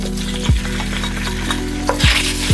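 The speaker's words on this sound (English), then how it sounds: "I'm going to just saute off these ingredients and a few more bits of onion." Aromatics and onion sauté in a hot pan with a steady, close sizzle and frying crackle, broken by three or four sharp low knocks of a spoon or utensil against the pan.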